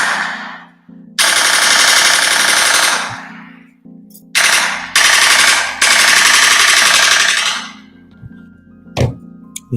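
A machine gun sound effect fires in several long, loud bursts of rapid rattling shots separated by short silences, ending with a couple of isolated sharp thumps.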